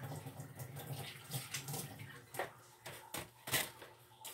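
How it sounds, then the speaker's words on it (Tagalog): Water runs from an open tap during bathing, a soft, uneven splashing and trickling stream with occasional louder surges, fairly faint and close, without speech. "Sayang yung tubig, sarado mo na."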